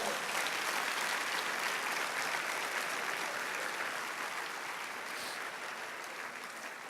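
A church congregation applauds for Jesus during an evangelical sermon, with dense, sustained clapping from a large crowd that fills the space evenly and fades slightly toward the end.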